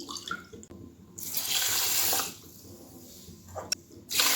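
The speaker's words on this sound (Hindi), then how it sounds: "इसके बाद इसमें मैं शामिल करूँगी 2 कप पानी" Two cups of water poured from a cup onto sugar in a pan for an almond sharbat, heard as two separate splashing pours with a short pause between them, close up.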